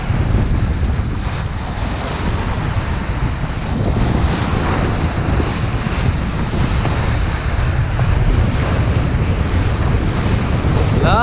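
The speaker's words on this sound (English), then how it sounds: "we are going into some big swell here" Heavy ocean swell and steady wind roar around a Hallberg-Rassy 54 sailing yacht on port tack off Mustique, a dense continuous rush of surf, hull wash and wind buffeting the microphone with no voices.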